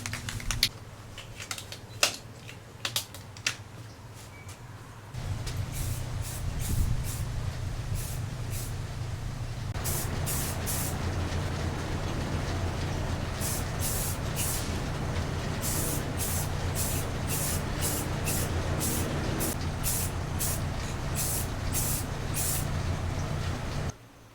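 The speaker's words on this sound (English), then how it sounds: "now I'm getting ready to put another coat of white spray paint on them" White spray paint hisses from an aerosol can onto small raceboat models, a steady close spray holding for long stretches with brief pauses between passes.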